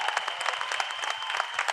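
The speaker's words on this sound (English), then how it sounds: "So please give a big round of applause to Ojas." Applause rises from an audience at a film trailer launch event, brisk and continuous but fairly faint.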